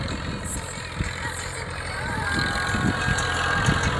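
A tractor drives a rotavator through an onion crop field in Jargali village, Gir Somnath, its engine giving a close, continuous mid-pitched drone that rises slightly in loudness and stays unbroken for four seconds, with no talk over it.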